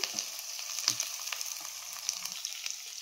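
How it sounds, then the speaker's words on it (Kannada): Garlic frying in a pan, a bright, crackling sizzle with frequent small pops and a few light stirring taps, close and steady throughout, with no voices. "ನೆಕ್ಸ್ಟ್ ನಾನಿಲ್ಲಿ ಬೆಳ್ಳುಳ್ಳಿಗಳನ್ನು ಹಾಕ್ಕೊಳ್ತಾ ಇದ್ದೀನಿ. ಬೆಳ್ಳುಳ್ಳಿ ಘಮ ಬಿಟ್ಕೊಳ್ಳೋ ತನಕ ಫ್ರೈ ಮಾಡ್ಕೊಬೇಕಾಗುತ್ತೆ"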